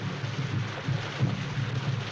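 Heavy rain and rumbling thunder in the Joan Crawford film Rain, a dense, steady downpour with low rolling thunder swells, loud and unbroken, with no voices.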